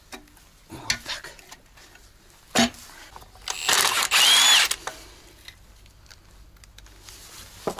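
A power tool cleans brake parts on a KAMAZ truck during a repair, with a loud rasping burst of about a second near the middle between quieter scattered knocks and clatters, close by.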